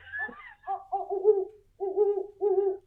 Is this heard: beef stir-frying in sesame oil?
no